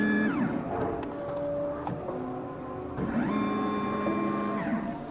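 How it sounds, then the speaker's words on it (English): An Xtool S1 laser cutter whirs and beeps as its sensor measures workpiece thickness, with stepper motors rising and falling in pitch in two sweeping bursts, close and fairly quiet, no talking. "the laser automatically measures the thickness of the workpiece with a sensor"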